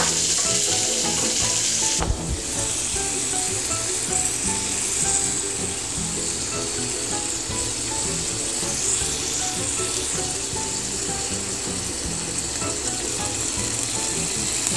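Keto meat skewers fry in a pan with a little oil, a steady loud sizzle that starts abruptly as they go in and continues evenly with faint crackles throughout.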